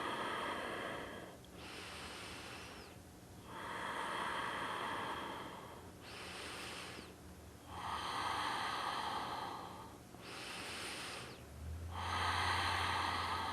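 Slow, deep nasal breaths during a seated yoga practice, alternating long inhales and exhales in a steady rhythm, close and fairly quiet with a faint hiss of room noise and no talking.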